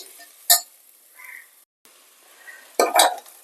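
A spoon scrapes and clatters in a pan of dal frying with moringa leaves, green chillies and tomato, giving a few loud close strikes and a soft sizzle between them.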